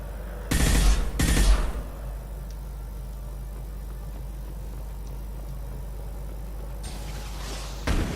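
Gunfire in Mass Effect 2 comes as two loud, close bursts of rapid shots early on, then a low steady hum, and a brief burst returns at the end.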